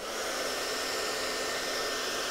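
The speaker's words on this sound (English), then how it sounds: "I've taped it to the top of a hair dryer. And then you take a ping pong ball and you put it in the airstream" A hair dryer with a cut-off water bottle top taped over its nozzle blows a steady, unbroken rush of air, loud and close, with no talking.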